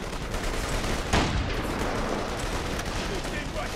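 Grenade blasts and gunfire crackle through a chaotic video game battle, with one sharper burst standing out amid constant rumbling noise while a player talks over it.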